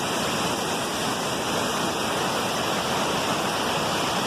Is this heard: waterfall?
yes